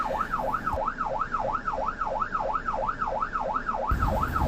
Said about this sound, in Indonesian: ambulans ini membawa pesakit yang mungkin perlu perhatian dengan segera